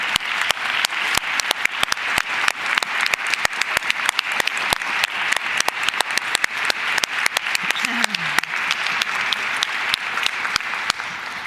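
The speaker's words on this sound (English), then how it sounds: "simply clap with them" A Lutheran church congregation in the pews and choir claps together in the sanctuary during Sunday worship; dense, steady applause runs throughout, with a faint voice briefly in the background.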